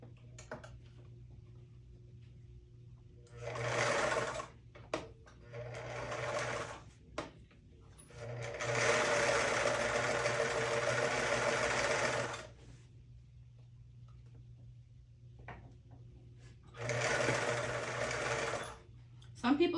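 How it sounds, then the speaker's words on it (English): Sewing machine stitching fabric in several separate runs, each a dense whirring burst lasting a few seconds, the longest near the middle, with a steady low hum and quiet gaps between runs. "Let's go ahead and sew."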